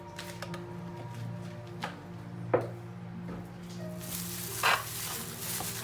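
Mutton ribs frying in oil, a continuous close sizzle with occasional clacks of a utensil and a brief louder burst of spattering near the end, no talk.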